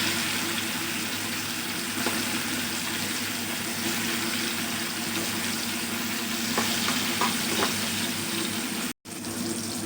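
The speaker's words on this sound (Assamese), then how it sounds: "তাৰপিছত এইখিনি অকণমান লৰাই লওঁ" Okra frying with mustard and green chili is stirred in a pan, giving a constant, close sizzle with light scraping strokes. The sound cuts out briefly near the end, then resumes.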